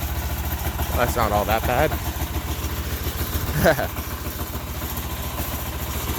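A Sears Suburban garden tractor with a 6HP diesel engine idles while warming up on a cold day, a steady low chugging throb with someone talking briefly over it.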